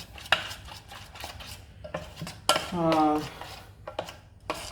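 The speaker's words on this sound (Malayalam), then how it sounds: "ഉപ്പിട്ട് വീണ്ടും മിക്സ് ചെയ്യാം" Wheat dosa batter is mixed with salt in a bowl, with a utensil clinking and scraping against the bowl in an irregular rhythm, close and moderately loud, while a voice talks briefly.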